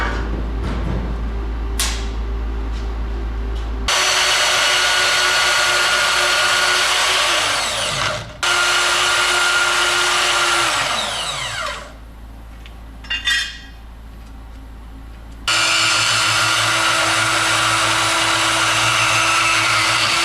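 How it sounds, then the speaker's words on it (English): Bandsaw cutting metal parts for a 1937 Ford Cabriolet custom catwalk and decklid, a loud steady motor hum with a grinding cutting rasp, broken by short dips as the blade slows and then resumes. "I'm gonna take this over to the bandsaw. We'll chop it up."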